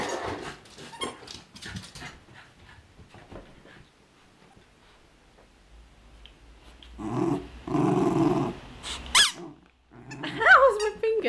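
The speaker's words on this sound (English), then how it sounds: "He forgot this one had a squeaker." A puppy growls and whimpers while chewing a squeaky toy, the squeaker giving sharp squeals between low growls near the end, close by, with a person talking quietly earlier.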